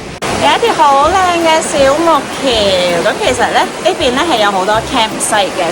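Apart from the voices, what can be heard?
loud river rushing near Lauterbrunnen, Switzerland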